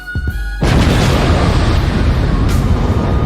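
An explosion sound effect bursts in loud and sudden after a short lead-in, then a broad roaring rumble sustains to the end, with no talk.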